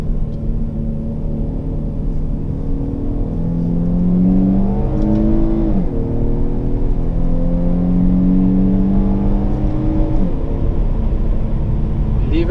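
An Infiniti Q70 sedan's naturally aspirated V6 revs up through the gears while driving, its tone climbing, dropping at each shift and climbing again, loud and steady from inside the cabin.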